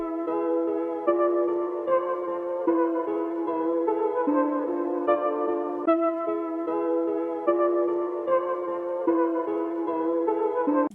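A halftime music loop plays with no drums: layered sustained chords and melodic synth notes that change in a steady rhythm, moderately loud and continuous throughout, with no voices.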